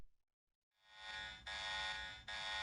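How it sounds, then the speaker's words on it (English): An emergency alarm in the game Star Ocean: The Last Hope blares as a loud, bright electronic buzzing tone that swells in and repeats in long even pulses with short breaks between, alone without speech. "What's that alarm?"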